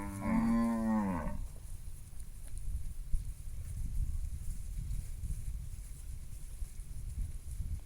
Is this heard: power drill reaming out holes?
no